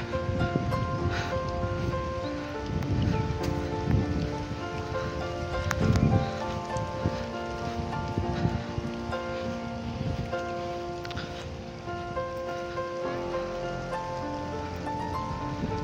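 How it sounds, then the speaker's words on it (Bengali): Heavy rain pours steadily near a quiet beach by a river mouth, a dense, loud wash of drops on surfaces that continues throughout without letting up. "বৃষ্টিটা খুব জোরেই চলে এসছে।"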